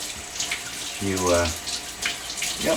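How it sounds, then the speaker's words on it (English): Tap water runs steadily into a kitchen sink while raw shrimp are peeled under the stream, a close, even rushing with a brief voice-like tone partway through. "they peel easier if you under running water"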